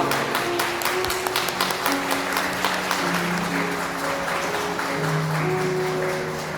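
Wedding guests applaud the bride and groom as they bow to their parents, a sustained crowd clapping with distinct sharper claps early on, while soft background music and murmuring carry underneath.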